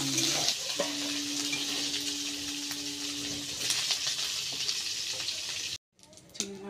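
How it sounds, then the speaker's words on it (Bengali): Turmeric-and-salt-coated prawns fry in oil in a wok with a loud, steady close sizzle and crackle, briefly cut to silence before the hissing resumes. "এটাকে এখন ভাজবো মাছটাকে দিয়ে দিলাম"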